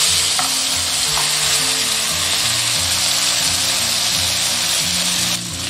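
Starch- and egg-coated hairtail fish sizzling loudly in a pan, with continuous crackling frying and brief scraping or shifting sounds as the pieces are moved and turned over.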